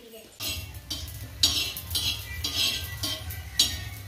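Dahi vada fry in a pan, a steady soft sizzle broken by repeated metallic scrapes and clinks of a spoon against the pan at a regular rhythm.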